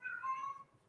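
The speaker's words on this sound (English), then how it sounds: "That is my cat, Batman." A pet cat gives a single short, clear meow close by, rising briefly then fading, in an otherwise quiet room.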